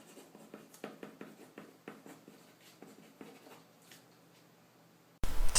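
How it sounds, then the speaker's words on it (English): A pencil scratches out an equation on paper: close, quiet strokes and taps in an uneven rhythm, ending with a sudden loud burst of noise. "Now write down your equation."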